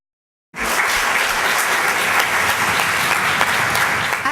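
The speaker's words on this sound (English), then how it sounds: "so let's give a round of applause for" Audience applause at a business presentation on employee engagement, bursting in abruptly after silence and holding as a dense, even roar of clapping hands.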